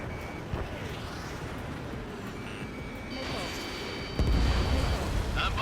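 Missile launches and explosions in Ace Combat 7: Skies Unknown, a jet combat game, with a steady roaring rumble, rising whooshes and a heavy blast near the end, under radio chatter and lock-on tones.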